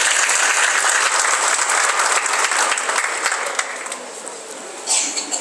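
A large village crowd at a political campaign launch rally in Solapur claps loudly and continuously, the applause tapering slightly before a brief final swell, with no voices over it.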